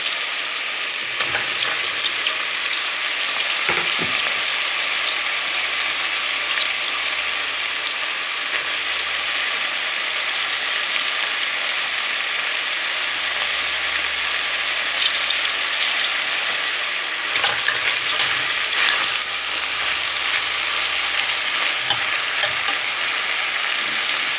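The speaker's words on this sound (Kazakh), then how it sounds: "Етіміз пиязбен қуырылды" Beef and onion sizzle and fry steadily in a pot, a continuous loud crackling hiss with occasional stirring clinks, no voices.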